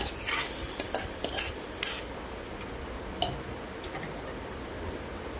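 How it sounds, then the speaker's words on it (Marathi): Marinated shark pieces are gently stirred in a pan of masala, producing soft scraping strokes and occasional light metallic clinks over a low steady sizzle, close and without talk. "मोरी घातल्यानंतर ती हलक्या हाताने परतून घेतली"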